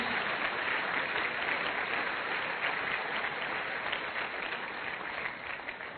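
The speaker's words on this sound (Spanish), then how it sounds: "Aplaudan, claro, gloria a Dios." Steady, dense applause from a church conference crowd, sustained and fairly loud throughout, easing slightly toward the end.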